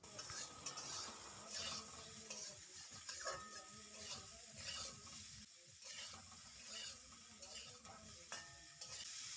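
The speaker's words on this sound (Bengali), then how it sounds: "এই লবণ হলুদটা দিয়ে আমি ফুলকপিটাকে ভালো করে লাল লাল করে ভেজে নেব।" Cauliflower fries with salt and turmeric in a karahi for a Bengali rui fish curry with potatoes, with steady, dense sizzling and repeated stirring scrapes throughout, fairly close and continuous.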